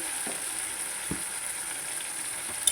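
Onion and a paste of green chili, cumin, garlic and coriander leaves fry in a pan, giving a steady close sizzle with a few soft stirring taps and no talking.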